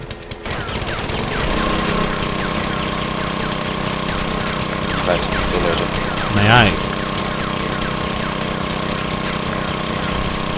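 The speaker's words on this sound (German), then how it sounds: "Oh, jetzt sind wir mit dem Bohrer drin." A drill runs in the video game 7 Days to Die, a continuous mechanical grinding and rattling drone holding steady throughout, with someone talking over it.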